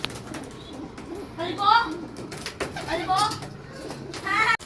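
Pigeons coo in soft repeated calls, fairly close, over a quiet outdoor background, with occasional faint human voices and noises mixed in.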